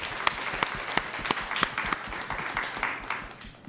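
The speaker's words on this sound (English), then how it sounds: "Let's give her a round of applause." Audience at a school district governing board meeting breaks into a steady round of applause, dense overlapping claps with a few sharp individual hits, sustained throughout at moderate room level.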